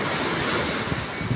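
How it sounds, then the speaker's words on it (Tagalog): Large ocean waves pound a seawall in a typhoon storm, a continuous loud roar of surf and rushing water with wind buffeting the microphone, steady throughout with no voices. "Ang laki ng sandok ng alon kasi tumatama doon sa may siwol"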